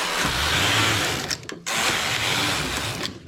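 A knitting machine carriage works across rows of closed knit fabric for a child's pants, giving a steady mechanical rattling whir that dips briefly midway, then resumes, loud and close with no talk.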